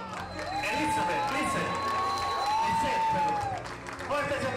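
A crowd at a quinceañera party applauds and cheers to welcome the birthday girl and her court, broad clapping mixed with voices and music with sweeping tones.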